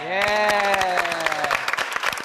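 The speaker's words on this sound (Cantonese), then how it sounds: "咁啊我哋俾啲掌聲好嘛？" Audience clapping at a lion dance exhibition, a burst of applause that starts strong and then thins out, with a held musical tone at the beginning.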